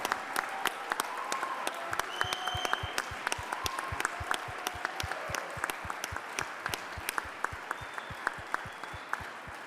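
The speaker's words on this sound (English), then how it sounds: "thank you very, very much for the great applause for Domenico" Steady, sharp audience clapping at an awards ceremony medal presentation, many distinct hand claps in an even rhythm continuing throughout, moderately distant with faint voices underneath.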